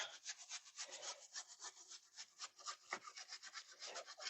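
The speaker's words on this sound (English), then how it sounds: "Let's give it a good scrubbing." Steady brisk scrubbing of a Stylophone 350s during cleaning, a continuous rasping back-and-forth rub with quick rhythmic strokes, close and fairly quiet, with no voices.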